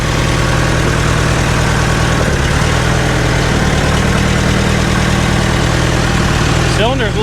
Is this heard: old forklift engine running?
yes